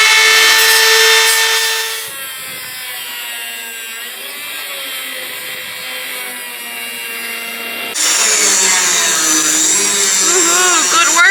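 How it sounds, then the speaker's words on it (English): Die grinder fitted with a small cut-off wheel, run off a Bluetti portable power station while building a Unimog expedition truck: a loud sustained high whine that drops to a steadier grinding tone mid-way, then rises again sharply near the end. "we are actually using the little power station from Bluetti and our little ferret cut-off wheel on the die grinder"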